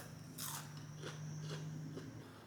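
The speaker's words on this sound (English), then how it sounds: "The air fryer made them super crunchy." Crunchy air-fried hash browns bitten and chewed up close, one sharp crisp bite followed by several softer crunches, fairly quiet with no talking.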